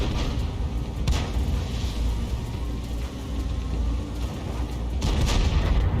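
Gunfire from a shooter video game played on a GTX 1660 Super graphics card: a few sharp booming shots, one near the start and another burst toward the end, over a steady loud rumble of game noise.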